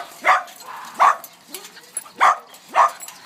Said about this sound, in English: Cute puppies.